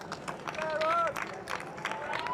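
Ministerial workers at Labour party headquarters clap amid a crowd, patchy bursts of applause mixed with running footsteps and voices talking over them.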